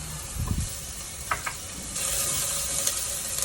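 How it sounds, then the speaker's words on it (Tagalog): Onion and garlic sautéing in a pan for a tomato chicken dish, a steady sizzle and hiss with a few stirring scrapes, close and continuous with no talk. "Igisa-gisa hanggang bumango at mag-brown ng konti."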